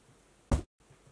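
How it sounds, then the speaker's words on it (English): A crash cymbal made from cardboard and left unprocessed gives one short, noisy, papery splash that stops quickly, alone over quiet room noise. "My crash cymbal, without any manipulation, sounds like this."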